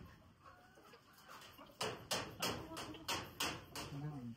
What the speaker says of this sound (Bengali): আর এখানে মুরগি ডিম পাড়ার জন্য বসছে